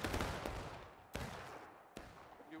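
Musket volleys crack out in War of Rights, a Civil War-era Union engagement with about 170 players: dense overlapping gunfire up front, then two sharper single reports spaced apart, with a crackle of distant shots between.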